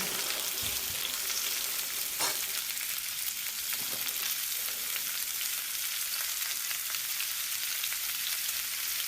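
Radish paratha frying in desi ghee on a low flame, a soft, even sizzle with faint crackles and a brief stir or tap early on, quiet and close.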